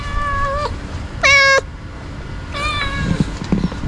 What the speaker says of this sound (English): Okay, it's a cat.